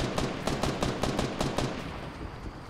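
Rapid gunfire in a video game: a quick burst of about a dozen sharp shots in a steady rhythm, loud and close, then fading into a brief tail with no talking over it.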